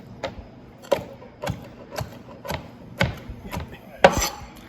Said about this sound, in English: I like to chop it like this to make some steak tacos